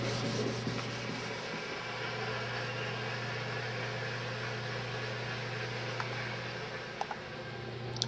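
Steady scratchy hand sanding of wood on a 1939 Chris Craft 15½-foot runabout boat continues without pause, a fairly quiet abrasive hiss over a faint low hum.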